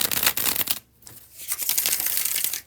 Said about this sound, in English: Here is the bridge shuffle, the second and last